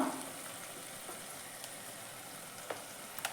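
Turmeric powder dropped into hot oil for a tamarind-soured sardine curry, giving a steady, fairly quiet sizzle and frying hiss with a few faint stirring clicks, no voices.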